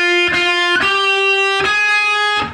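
Electric guitar picking the opening notes of a guitar solo: four distinct plucked notes, each ringing out with bright sustain, played loud and alone.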